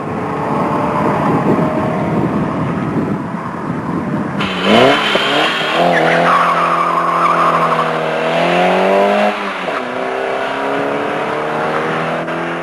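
A Ford Escort's engine revs hard as tyres squeal and skid, losing grip on the road, loud and continuous with the pitch rising and falling.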